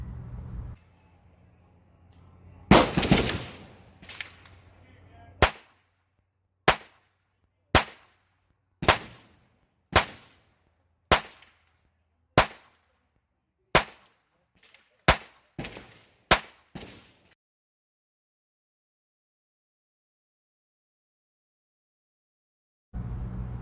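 A Phoenix Arms HP22A .22 pocket pistol firing about a dozen sharp, loud cracks in a steady string, each shot roughly a second apart, followed by silence.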